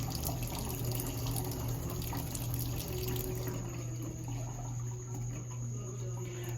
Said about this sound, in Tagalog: Turn off the water faucet